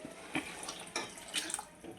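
Tamarind water is poured into a simmering curry, giving light splashing and trickling with a few brief louder gushes, quiet and close.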